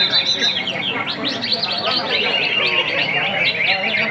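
Many green leafbirds (cucak ijo) sing at once at a songbird contest, a loud, dense, overlapping mass of chirps and whistled trills that never stops, with crowd murmur underneath.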